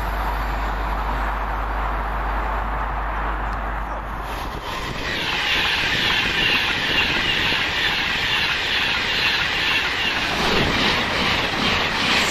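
A passenger train from Birmingham to London Euston passes at Kings Langley with a broad rushing roar. The roar swells partway through and carries clickety-clack wheel noise and a high squealing tone, loud and close, with no voices.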